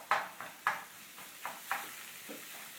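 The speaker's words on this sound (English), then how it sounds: "Use a wooden spoon. You start to break it up." A wooden spoon scrapes and breaks up ground meat browning in a pan for bolognese, a series of sharp separate scraping strokes over a low steady sizzle, close and alone without talk.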